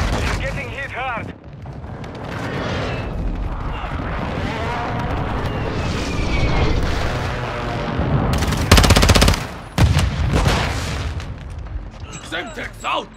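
Video game combat with sustained rapid gunfire, booming blasts and a sharp explosion near the end, loud and dense throughout, while voices call out over the shooting.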